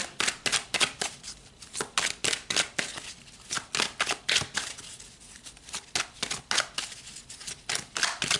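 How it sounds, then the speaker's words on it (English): Tarot cards are shuffled with a steady run of crisp, close riffles and snaps, repeating rhythmically and loudly throughout with no talking. "let's just pull a few more cards, a few more tarot."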